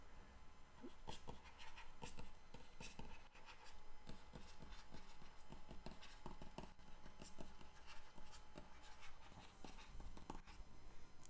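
Faint, dense scratching and tapping strokes of writing on a board during a mathematics lecture, continuing steadily under a quiet room background with no clear speech.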